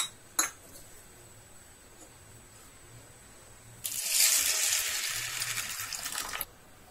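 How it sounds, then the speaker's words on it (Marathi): Split chickpeas (chana dal) are rinsed in water at home, heard as a short close burst of sloshing and swishing water lasting a few seconds after a quiet stretch with a faint clink. "बघा मी हरभऱ्याची डाळ स्वच्छ 3-4 पाण्याने धुवून घेतलेली आहे"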